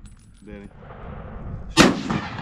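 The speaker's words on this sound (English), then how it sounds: "Those guys messing with the new type assault rifles" Assault rifle fires a single sharp, loud shot that cuts through a noisy outdoor background, preceded by a brief faint tonal sound and followed by a decaying rumble.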